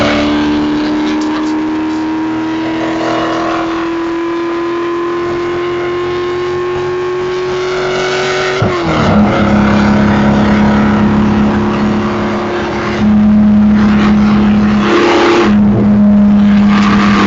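A drag race car, a 95 speeder Ford Mustang, accelerating down the straightaway with a loud, rising engine roar that drops at a shift then climbs again, steady and close.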